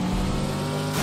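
A car engine drones steadily while driving in a video game, a loud, continuous motor hum with a low rumble and faint tire noise throughout.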